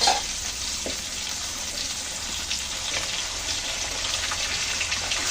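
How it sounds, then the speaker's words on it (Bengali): Hilsa fish lightly frying in a pan, making a steady, close, hissing sizzle that continues evenly throughout with no voices. "যদি ইলিশ মাছ আমি অনেকটা ভাববো না, হালকা করে একটু ভেজে নেবো"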